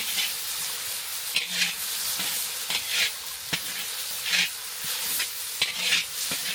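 Spices being stirred into a large pot of frying whole goat curry, with a steady sizzle and periodic scraping strokes of a spoon, close and fairly loud with no talking.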